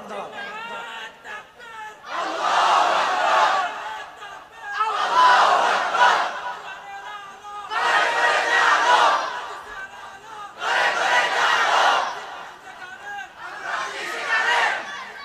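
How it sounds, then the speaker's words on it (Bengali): A large crowd of young men at an Islamic religious sermon gathering chants the takbir slogan in loud, repeated collective shouts, five surging bursts separated by short pauses, with a voice leading between them. "এটা তাকবীর দেন সবাই আমার সঙ্গে, লিল্লাহি তাকবীর"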